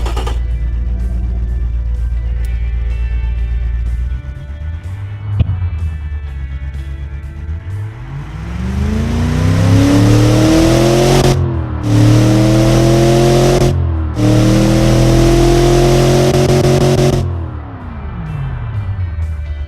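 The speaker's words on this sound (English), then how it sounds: "As you can hear, the engine is very smooth at idle and at low RPM, but when you put your foot down, the engine will start screaming" Replica Ford/Lincoln 460ci V8 engine, smooth low idle with a steady rumble, then revs rising sharply to a loud scream, held high twice with brief cutoffs, before winding back down to idle, close up with no talk.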